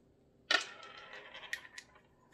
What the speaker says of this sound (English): So you take out that screw